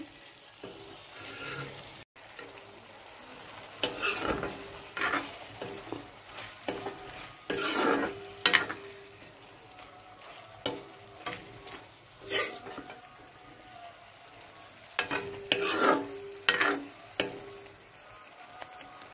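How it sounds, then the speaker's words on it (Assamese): Leafy greens with fish heads fry dry in a pan at home, with soft sizzling under intermittent scraping and stirring strokes that come and go in short clusters. "শাকখিনি ভাজি আছোঁ শুকানকৈ, মানে পানীটো পূৰা শুকাই দিম শাকৰ"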